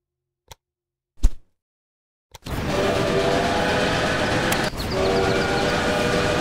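A train in the railway management video game Railway Empire gives a few sharp clicks and then a steady rumble of rolling cars with a faint horn tone, loud and continuous with no talking.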